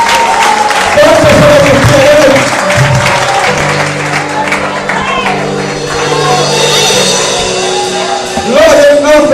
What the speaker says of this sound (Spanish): Denle un aplauso, hermano.